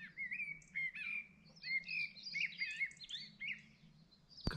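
A songbird sings a continuous warbling, chirping phrase before dawn at moderate distance over a quiet low hum, with a brief sharp knock at the end.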